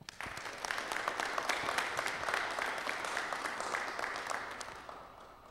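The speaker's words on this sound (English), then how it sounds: "Let's give yourselves a round of applause" Audience applause at a certificate presentation honoring fire chiefs, battalion fire chiefs and fire captains: dense, steady clapping that swells quickly, holds for several seconds, then tapers off.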